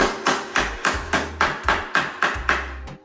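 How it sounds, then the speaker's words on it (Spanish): A hammer strikes a slightly bent piece to straighten it, about nine evenly spaced, loud ringing blows in a steady rhythm with no talk. "la enderezan con el martillo"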